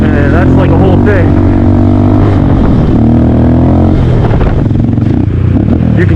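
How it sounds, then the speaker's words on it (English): A Honda Grom motorcycle engine running loud and close at low RPM during a wheelie, its note wavering and sagging as if about to stall. "You can kind of hear right there, it was like a little bit too low in the RPM, and it wanted to stall right at the end."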